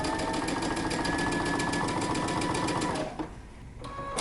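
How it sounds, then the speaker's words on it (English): A home sewing machine running a long basting stitch for dressmaking, a fast steady mechanical rattle that runs for about three seconds and then stops, followed by a few soft clicks. "Using the longest stitch possible on your sewing machine, we're going to create 2 rows of basting stitches."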